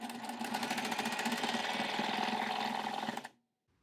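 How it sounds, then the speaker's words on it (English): A sewing machine chain-pieces Ohio Star quilt block pieces in one continuous run, its fast, even needle rhythm close and steady for about three seconds before stopping abruptly into silence. "I'm going to chain piece and stitch one right after the other without stopping"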